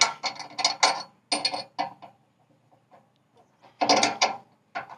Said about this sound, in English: you got to kind of rock this slip clutch back and forth until it finds that spot that it'll go through